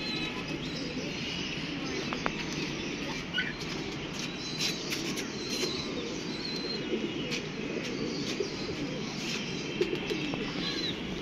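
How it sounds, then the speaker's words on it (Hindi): A Sialkoti pigeon coos softly among other birds that chirp and call, with a steady noise from the loft behind them. "ये सियालकोटी चूहा कबूतर है।"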